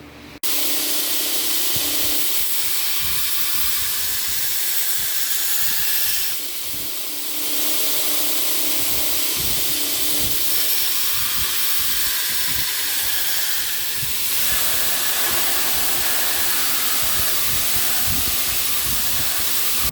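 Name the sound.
grinding the bevel of a copper Damascus hunting knife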